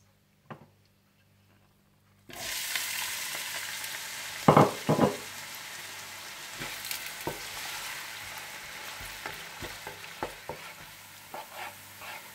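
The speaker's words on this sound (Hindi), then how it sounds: "इसमें आप डाल दें कड़ी पत्ता और प्याज डालकर गोल्डन फ्राई कर लें।" Curry leaves and onions drop into hot desi ghee, bursting into a close, loud sizzle with a few sharp crackles and stirring scrapes, then settling into a steady fry; a short quiet lead-in comes first.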